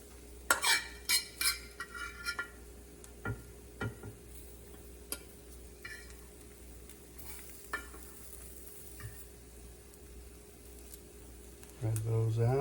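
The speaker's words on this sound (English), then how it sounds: "We're going to add the mushrooms." Mushrooms dropped into a hot pan and stirred, giving a steady low sizzle with scattered clicks and scrapes of a utensil against the pan, plus a louder rattle near the end.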